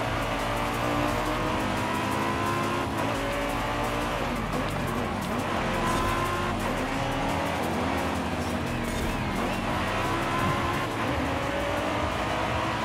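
A fast car in the video game Forza Horizon 5 drives with a loud, steady engine drone that holds throughout with small shifts in pitch, and no voices over it.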